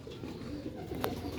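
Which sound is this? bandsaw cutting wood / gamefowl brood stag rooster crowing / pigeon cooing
pigeon cooing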